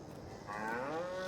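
Cattle in a farming game let out a single drawn-out moo that rises and holds, loud and close over a soft background murmur.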